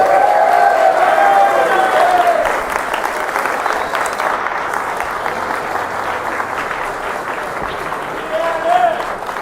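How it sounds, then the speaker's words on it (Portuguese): A crowd at a political speech in Santos gives sustained applause for the women, a dense roar of clapping and some cheering that holds strong and then eases slightly. A voice carries briefly over the noise. "a salva de palmas das mulheres."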